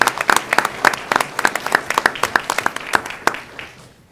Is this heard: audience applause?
yes